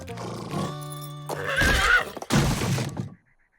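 A cartoon horse whinnies loudly nearby, a long shrill neigh, followed by snorting and rough breathy noises before it cuts to silence.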